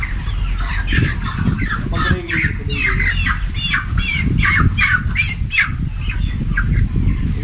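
A rooster on a Pakistani poultry farm squawks again and again in quick, rhythmic bursts, loud and close, with the low hum of the farm underneath.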